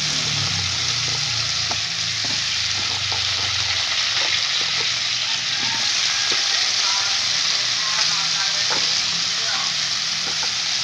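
Potato and carrot pieces frying in a pan for menudo, a steady loud sizzle and crackle running throughout, with scattered ticks of stirring; no talk.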